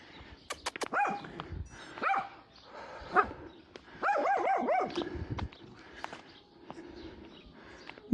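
A small dog plays and barks nearby in short bursts, mixing sharp yips, whimpers and pattering steps, with quieter moments between the outbursts.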